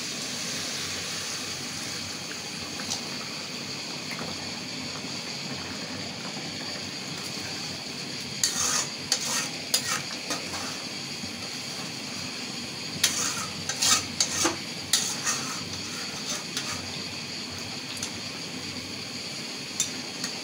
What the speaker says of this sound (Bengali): আমি এখন সামান্য একটু পানি দিয়ে দেবো,